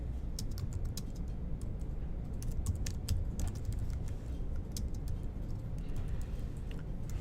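Rapid, steady typing on a computer keyboard while a catcher game is being programmed, with clicky keystrokes running close and continuous over a low background hum for about seven seconds.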